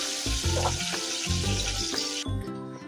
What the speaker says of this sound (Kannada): ನೋಡಿ, ಇದು ಕೂಡ ಫ್ರೈ ಆಗಿದೆ